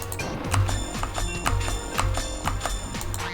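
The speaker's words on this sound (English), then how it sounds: "My alarm's going off." An alarm goes off in a steady, repeating pattern of sharp pulses roughly twice per second, moderately loud, with no talking over it.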